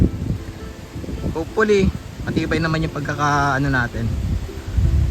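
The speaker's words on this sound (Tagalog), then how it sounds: "sobrang lakas talaga ng ulan ng hangin ngayon" Strong wind and rain beat at a campsite awning set up on high ground, a steady rushing wash under someone talking close by.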